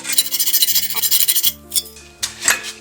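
A hacksaw blade scrapes and rasps against a metal pipe in quick repeated strokes, marking it, followed by a few sharper scratches and clinks.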